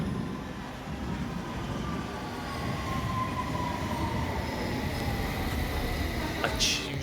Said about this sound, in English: I usually come over on the train